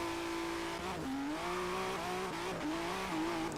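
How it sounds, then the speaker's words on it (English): A modded Ford GT in the racing game Forza Horizon 3 revs with a loud, raw engine note, its pitch rising and dipping through gear changes with faint tire squeal. "It has such a nice engine sound."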